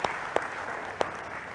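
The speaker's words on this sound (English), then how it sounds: "A big round of applause for the first question." Applause from a debate audience, a soft steady patter of clapping with a few sharp louder claps standing out, heard alone without voices.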